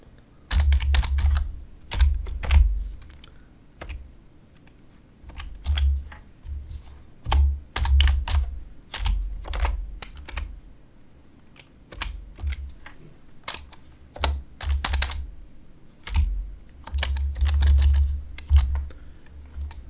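Keys pressed on a graphing calculator while entering a function, irregular clusters of sharp plastic clicks up close, some quick runs and some single taps, with no talking.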